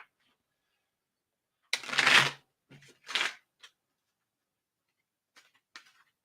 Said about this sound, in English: Pick the deck up and shuffle, and then I'll have you cut them as well.